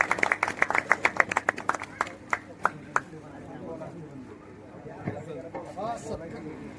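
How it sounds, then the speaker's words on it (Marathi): Audience at a public gathering applauds in a burst of clapping that thins to a few scattered claps, followed by a noisy room with a voice speaking. "आपण पुन्हा एकदा या सर्वांसाठी टाळ्या वाजवूया"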